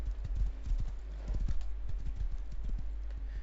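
Horse hooves clip-clop in a survival video game, a quick, fairly quiet run of steps in an uneven rhythm, heard alone without talk.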